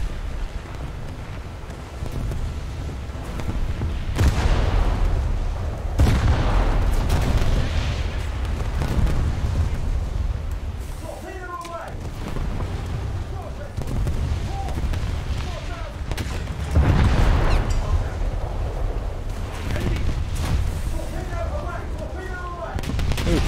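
Torpedo explosions in War Thunder naval combat, heard as several deep booming bursts that swell and fade over a continuous rumble of battle noise, with someone talking throughout.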